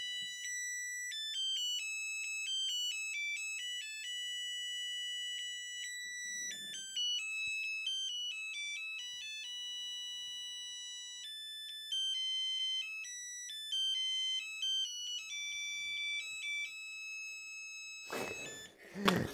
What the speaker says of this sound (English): So this was at one time the backup alarm for this truck.